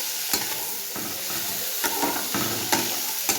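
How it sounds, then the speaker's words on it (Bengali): Beetroot, carrot and mixed vegetables are stirred in a frying pan, with a steady sizzle broken by repeated scraping strokes of the spoon at an uneven rhythm, close and with no talking. "সবজিটা ভালো করে একটু নেড়ে চেড়ে নিচ্ছি"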